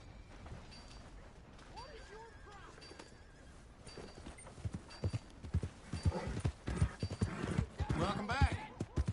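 Horse hooves clip-clopping in Red Dead Redemption 2, a soft rhythmic gait that grows louder and closer in the second half, with voices talking over it.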